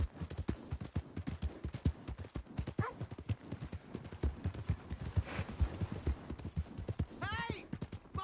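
Horse hooves clip-clopping in Red Dead Redemption 2, a rapid steady rhythm of close hoof strikes with a brief whinny near the end.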